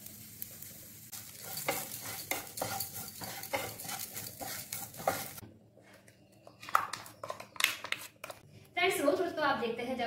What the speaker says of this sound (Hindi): अब इसी ऑयल में प्याज, काजू, अदरक, लहसुन, हरा मिर्च को हल्का सा भून लेंगे।